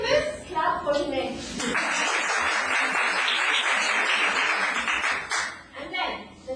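A classroom of students claps for a classmate in a dense burst of applause lasting several seconds, with voices talking before and after.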